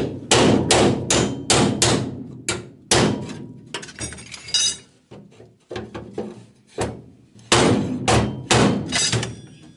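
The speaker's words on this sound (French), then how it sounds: "vais donner quelques coups de marteau." A hammer strikes repeatedly while an interior is fitted into a Citroën Traction 11B, loud close blows in quick bursts with short pauses, some ringing metallic and others duller thuds.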